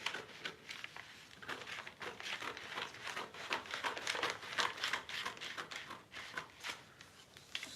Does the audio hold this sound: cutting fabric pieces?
yes